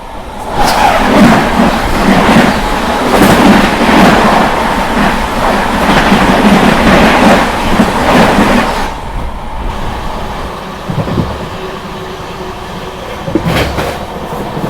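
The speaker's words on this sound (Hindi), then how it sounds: "इस समय सामने से आ रही है 17610 पूर्णा पटना एक्सप्रेस वैप" The 17610 Purna-Patna Express, hauled by a WAP-7 electric locomotive, rushes past in a loud, close rumble of wheels with rhythmic clatter for about nine seconds. The noise then falls away to a quieter rolling drone.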